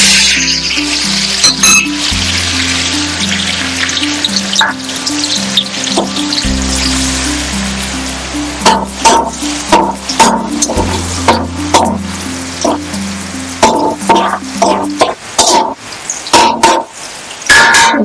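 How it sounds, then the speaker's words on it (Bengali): Cashews, raisins and salt drop into hot ghee in a pot, a steady sizzling hiss that turns into irregular crackles and pops, close and loud with no talking. "তো এবার আমি কাজু কিশমিশ আর টেস্টি সল্টটা একসাথে ঘিয়ের মধ্যে দিয়ে দেবো।"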